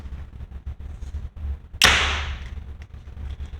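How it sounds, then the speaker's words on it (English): A Mathews LIFT compound bow is shot in an echoey shop, and the arrow strikes a new Big Shot Ballistic 450 target bag with one sharp smack that rings out and decays over a second, amid low shop noise. "the noise comes from the arrow hitting the bag, not from the bow itself"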